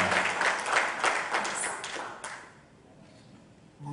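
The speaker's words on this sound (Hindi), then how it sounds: "एक बार जोरदार तालियां" Audience applause at a launch event for a new Sony TV show, a dense burst of clapping for about two seconds that fades out into quieter room noise.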